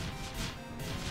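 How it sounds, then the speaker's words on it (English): Tombs get smashed in a video game, giving a dense, noisy crash of breaking debris that stays loud and continuous for about a second with no pause. "It's smashing tombs."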